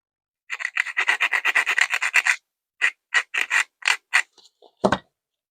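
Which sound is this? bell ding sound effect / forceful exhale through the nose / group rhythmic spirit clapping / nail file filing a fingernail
nail file filing a fingernail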